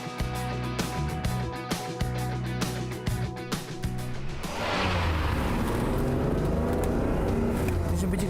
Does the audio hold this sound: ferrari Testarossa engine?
yes